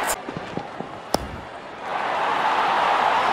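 A cricket bat striking the ball in the video game Real Cricket 22, one sharp knock among a few lighter taps, followed by a swelling crowd roar from the stands.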